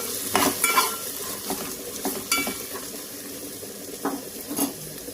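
Bitter gourd pieces fry in hot oil in a pan and get stirred, with a steady sizzle, scraping spoon strokes and occasional clinks of the utensil against the pan. The sound is close, and nobody speaks.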